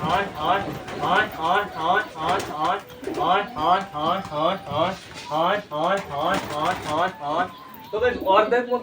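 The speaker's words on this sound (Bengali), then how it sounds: "আগে পায়রাদের ছেড়ে দিই তো এরা বেরোবে রকেটের স্পিডে" Pigeons coo loudly and rhythmically at close range as they are let out of their coop, with many throaty calls repeating back to back throughout.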